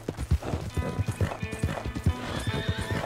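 A horse's hooves clip-clop steadily as it is ridden in the video game Red Dead Redemption 2, a quick, even rhythm of soft thuds with a faint whinny mixed in.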